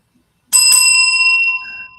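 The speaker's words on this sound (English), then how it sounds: "ring the bell" A single bright ring of a small bicycle-style bell struck once, its clear metallic tone sustaining and slowly fading, loud and alone.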